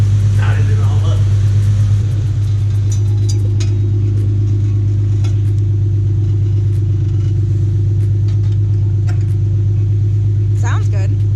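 A Nissan VQ37VHR V6 runs steadily with a deep, even rumble close by, a brief rev at the start settling into a constant idle, while people talk over it.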